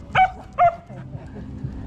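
A goldendoodle barks twice in quick succession, close and fairly loud, outdoors at night along a river walk, followed by faint ambient noise.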